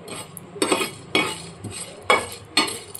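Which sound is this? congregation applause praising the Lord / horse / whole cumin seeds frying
whole cumin seeds frying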